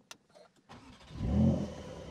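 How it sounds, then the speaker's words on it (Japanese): A Porsche 911 Carrera GTS engine cranks and fires up, rising to a throaty roar close by after a few light clicks. "エンジンをかけましょうね"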